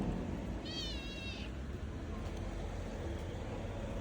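A kitten gives one clear, wavering meow lasting under a second, set against a constant low rumble of traffic.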